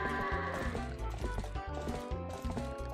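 Goats bleating in Zelda Twilight Princess, repeated nasal bleats over a looping game music backdrop, fairly close and steady.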